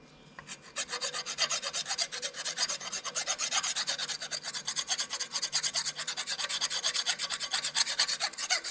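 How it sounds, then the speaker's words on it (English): A hand file rasps rust off the rod of a John Deere 450 track loader in dense, steady back-and-forth strokes, close and loud, starting after a brief quiet moment and continuing without pause. "maybe I'll just take a file and get this area down so that I can collapse it another 2 or 3 inches maybe"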